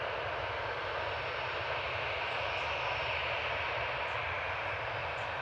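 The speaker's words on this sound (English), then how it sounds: "Ready to go on 23 left is EasyJet 2105 to Paris Charles de Gaulle. EZOX, it's the Ops, departing an A320 Classic." An EasyJet Airbus A320 Classic jet airliner departs runway 23 left at Manchester Airport, giving a continuous, even engine roar heard from a distance with no talk.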